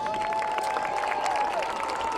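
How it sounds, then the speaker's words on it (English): Stadium crowd at a high school football game applauding cross-country runners, a steady wash of clapping and light cheering at moderate distance, with faint voices mixed in. "Let's give our cross-country runners another big round of applause."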